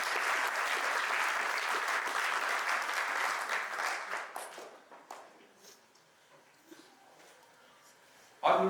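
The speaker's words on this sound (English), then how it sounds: "I think a round of applause for that." An audience claps at a youth parliament launch held at a university, a loud dense round that thins and fades out after about four seconds, leaving quiet room tone, then a sudden loud sound at the very end.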